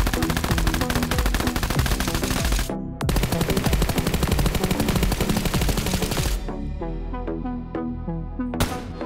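Automatic rifle fire from an M4 and a Honey Badger in PUBG Mobile, rapid sustained bursts of loud close shots separated by brief pauses, a final short burst at the end.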